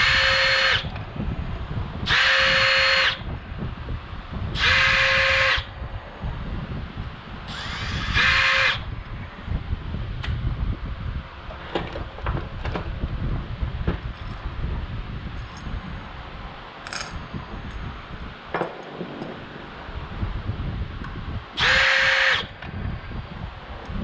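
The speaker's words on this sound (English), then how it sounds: "Found my drill." Power drill used during cleaning of a ZX11 motorcycle carburetor, running in five separate whirring bursts of one to two seconds each, loud and close, with clattering handling noises and breezy outdoor background between them.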